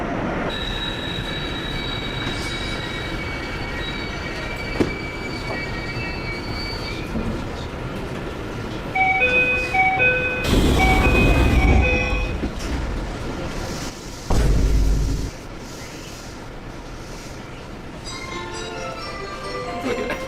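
Train riding through Japan heard from inside the carriage, a steady loud rumble of wheels on track with thin tonal squeals rising midway and bursts of louder roaring noise as it runs.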